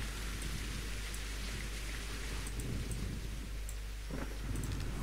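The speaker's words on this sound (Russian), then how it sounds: "дождь задолбал" Steady rain in a video game patters continuously with a low rumble underneath, faint and even throughout, with no voices.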